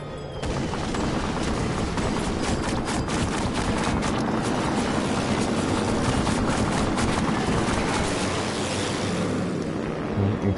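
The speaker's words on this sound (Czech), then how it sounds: "Poslední vlna letadel." Wave of aircraft in Assassin's Creed Syndicate's World War I sequence: a loud, continuous roar of engines mixed with crackling gunfire and explosions, dense and unbroken throughout.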